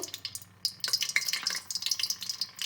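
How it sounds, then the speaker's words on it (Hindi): Bread pakoras dropped into hot ghee, a bright crackling sizzle of bubbling fat with bursts and stirring, close and without talk. "पकौड़े हैं ये हम लोग इसके अंदर घी में डाल देंगे"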